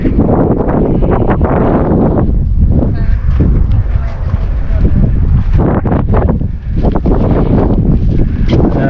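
Strong wind on a wide, busy beach at Lytham St Annes buffets the microphone with a loud, steady low roar that surges in gusts throughout, with no clear sound standing out above it.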